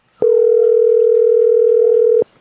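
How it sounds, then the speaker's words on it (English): A telephone dial tone sounds while a call is being placed: one steady, unbroken tone that holds for about two seconds and then cuts off cleanly, with nothing else audible. "let's get Layla on the phone"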